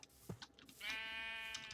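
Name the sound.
sheep bleating in the video game Minecraft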